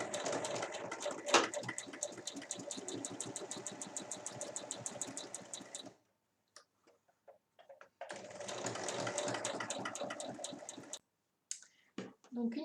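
Sewing machine stitching a seam 1 cm from the edge of a tote bag lining, running in two long steady bursts of rapid rhythmic needle clatter with a pause and a few clicks between.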